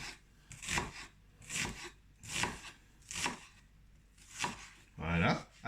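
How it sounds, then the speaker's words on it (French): An onion is sliced with a knife on a cutting board, making about seven evenly spaced, crisp chopping strokes, close and moderately loud, with a scraping sound at the end. "On va émincer l'oignon"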